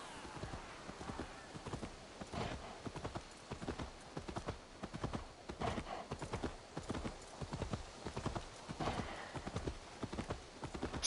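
Horse hooves clip-clop at a steady trot in the Assassin's Creed Valhalla video game, a continuous rhythmic patter of hoofbeats that stays fairly quiet throughout.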